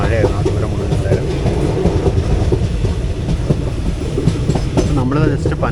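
The 12134 Mangalore-Mumbai CSMT Superfast Express runs at speed, heard from inside an AC 2-tier coach as a loud, steady rumble with rhythmic clickety-clack of the wheels and faint voices in the background.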